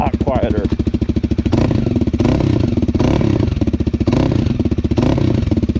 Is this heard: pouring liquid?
no